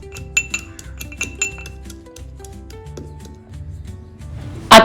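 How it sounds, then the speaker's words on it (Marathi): Garlic and cumin are pounded in a mortar with a pestle, giving a handful of sharp metallic clinks and taps over background music, ending in a louder clatter. "आता मी खलबत्त्यामध्ये लसूण आणि जिरे"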